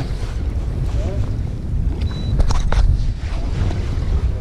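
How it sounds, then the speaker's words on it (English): Strong wind buffets a fishing boat moving along rocky shallows in open water, giving a heavy, steady low roar of gusts across the microphone. "Wind's pushing us hard."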